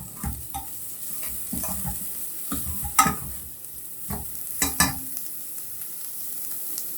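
Half an onion, sliced, frying in a pan for a drumstick-leaf soup: a soft continuous sizzle broken by uneven clattering scrapes and knocks from stirring, with no voices.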